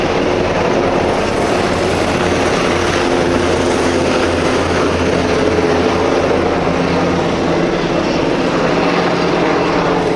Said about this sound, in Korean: 저게 해병대 기동 헬기 마리놀이라고 하는 겁니다. 마리논이라는 헬기인데 어우 멋있죠?